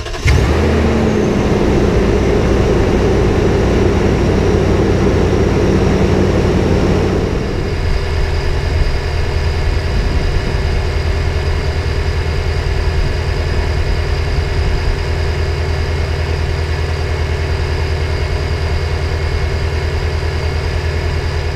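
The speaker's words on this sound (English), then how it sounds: "we'll start the truck up real quick and see if we hear it" A Toyota Tundra pickup with an intermittent rear problem cranks and fires up. It settles into a steady, low rumbling idle that changes tone after about seven seconds and carries on evenly and fairly close, with no voices.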